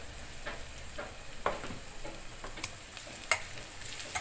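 Mustard seeds and cumin sizzle in hot oil while onion poha is being made, producing a soft, steady crackle with sharp pops and light stirring taps, close but fairly quiet, with no talking.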